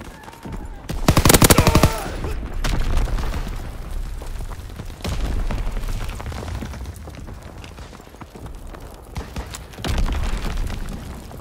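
Artillery battery firing in a video game: a rapid burst of heavy, closely spaced shots early on, followed by scattered booming impacts and rumbling blasts spread through the rest of the clip.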